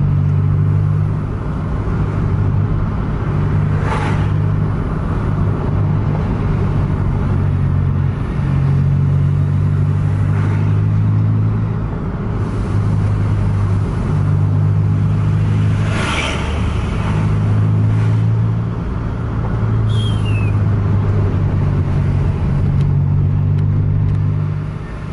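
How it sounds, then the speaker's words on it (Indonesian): Heavy road traffic with trucks and tanker trucks rumbles past continuously and loudly, engines droning and swelling as vehicles pass close by, with no voices. "Padat lalu lintas, ada truk dan truk tangki lagi."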